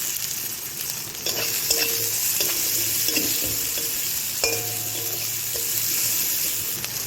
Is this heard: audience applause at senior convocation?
no